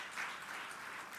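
A church congregation claps together in a short, faint burst of applause, a dense patter heard from a distance with no clear speech.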